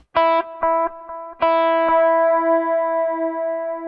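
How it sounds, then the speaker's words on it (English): A clean electric guitar through a delay pedal plays a few plucked notes, each ringing out with a shimmering, slightly wavering, pitch-shifted chorus-like echo that sustains and swirls after the picking stops. "And so the delay itself is pitch shifting just a tiny bit."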